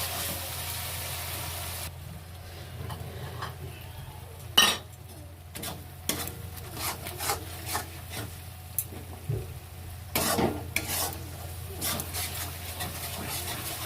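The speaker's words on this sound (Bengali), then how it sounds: "খানিক্ষণ কষিয়ে নেবো" Masala with tomato frying and being stirred in a pan while chicken is cooked; a soft background sizzle runs under intermittent scraping and clinking of a utensil against the pan, with a few sharper knocks.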